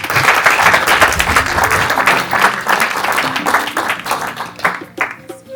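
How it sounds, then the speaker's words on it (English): Audience applauding an award recipient at an evening awards ceremony, dense steady clapping that runs throughout and thins slightly toward the end, with a voice faintly present underneath. "Give him a big hand of applause."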